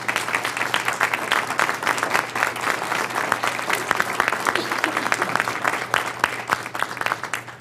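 A symposium audience applauds local gun safety groups with dense, sustained clapping from a large crowd in a hall, steady and fairly loud throughout.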